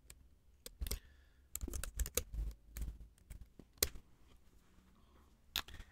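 Clicky keystrokes on a computer keyboard, irregular bursts of quick taps and isolated presses with short pauses between them, close and crisp with no talk.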